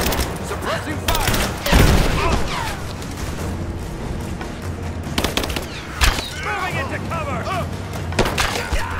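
Enemy suppressing fire in Rise of the Tomb Raider: repeated bursts of gunshots with sharp cracks and booms, loud and close, spread across a combat scene with some voices in the background.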